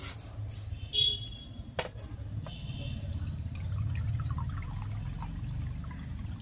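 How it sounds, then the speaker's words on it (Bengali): Water is poured into a pot to heat for boiling mung dal, a quiet steady pouring and trickling after a couple of sharp knocks, close by with no talking. "তার মধ্যে এর মধ্যে জল দিয়ে দিলাম।"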